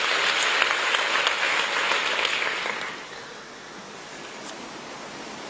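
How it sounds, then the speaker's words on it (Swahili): An audience at a SADC ministers' and labour-sector stakeholders' meeting claps in a dense, steady burst of applause that thins and fades out about halfway through. "Tumpigie makofi mengi sana sana."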